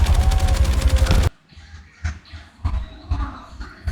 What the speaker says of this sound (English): they're the masters of the machine gun